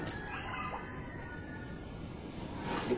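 Water leaking steadily from a sink drain pipe during a pipe replacement, a continuous close trickle and splash with faint dripping and no voices.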